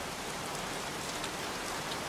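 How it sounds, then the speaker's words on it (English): Steady, dense rain patters across surfaces in the video game Heavy Rain, a constant wash of noise with no voices. "Goddamn rain. Soaking wet."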